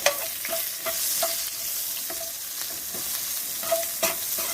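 Chopped onion sizzles in a hot kadai, a steady close frying hiss broken by several sharp scraping stir strokes at fairly regular intervals, with no voices.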